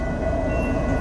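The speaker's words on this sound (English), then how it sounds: "I believe this train is going to stop and do the crew change here." A freight train rolling past during a snow storm, a loud continuous rumble with a faint steady tone and low rhythmic wheel beats, close by.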